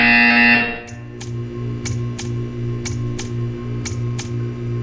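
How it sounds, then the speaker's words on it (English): In Portal 2, a loud tone sounds, then cuts off and gives way to a regular series of sharp, evenly spaced ticks over a low electronic hum. "You will hear a buzzer."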